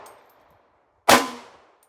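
A single sharp gunshot from a .300 Blackout rifle fired outdoors, one loud crack that rings briefly and then decays, with no talk.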